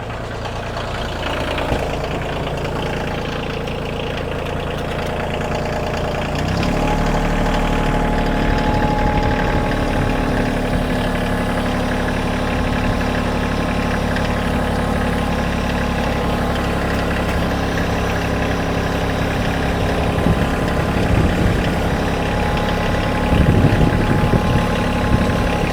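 A tractor engine idles steadily with a low, constant rumble while hitched to a homemade driveway drag, growing slightly louder and rougher partway through, with no talking.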